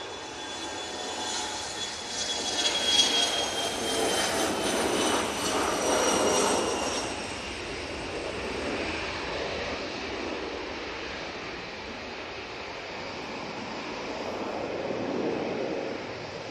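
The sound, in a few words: Bombardier Challenger business jet departing to Ibiza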